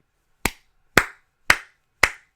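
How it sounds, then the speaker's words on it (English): A slow golf clap: four sharp, evenly spaced hand claps about half a second apart, crisp and close, with no other sound around them. "Golf clap."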